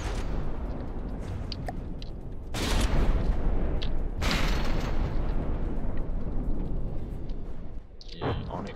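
Continuous heavy cannon fire in the game From the Depths, loud rolling booms and bursts layered densely with no pauses.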